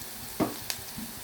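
Chopped onion and green chili fry in a pan for shepu bhaji, giving a soft, steady sizzle broken by a couple of small pops.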